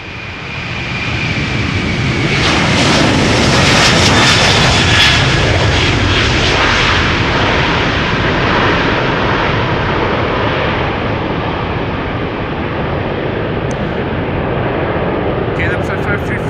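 A KLM Airbus A330-200 bound for Kigali takes off from Schiphol's Polderbaan, its engines swelling into a loud, rumbling roar that peaks early and then slowly fades as it climbs away.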